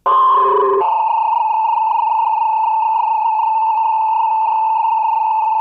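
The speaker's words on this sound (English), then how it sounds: "every time the loop is being looped, it degrades in quality" A steady, harsh electronic tone drones on unchanging after a brief shift at the start, sounding thin and worn, a tape loop heavily degraded by repeated re-recording.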